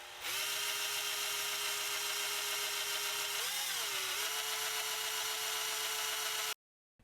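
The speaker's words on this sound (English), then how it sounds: "Once we have the post flattened, we'll take our center punch, punch the hole, and now we can start drilling." A small power drill bores out the rivet post on a die-cast Hot Wheels Redline car: a steady high whine runs for about six seconds with a brief pitch dip midway, close and loud, then stops abruptly.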